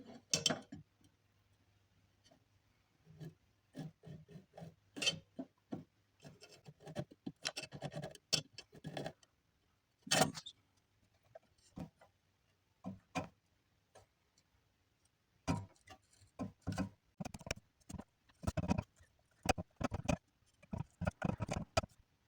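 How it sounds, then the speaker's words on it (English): A tiny homemade crankbait gets a lip slot cut into it by hand, giving a close, quiet series of irregular scratchy ticks and rasping strokes in short bursts with brief pauses. "Okay, now I got to attempt to cut a lip slot in this."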